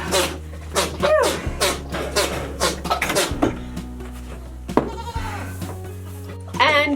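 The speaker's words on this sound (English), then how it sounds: "She is our littlest goat" Goats bleat loudly and close by during hoof trimming on a goat farm, a run of repeated, wavering cries in quick succession with short pauses, the last call rising again at the end.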